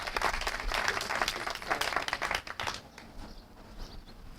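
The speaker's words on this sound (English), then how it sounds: "Please give him a round of applause." Audience applause at an outdoor dedication ceremony: a dense, lively wash of many hands clapping that thins and fades away over the last couple of seconds.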